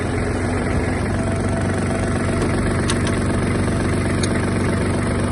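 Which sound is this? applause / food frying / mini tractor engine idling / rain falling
mini tractor engine idling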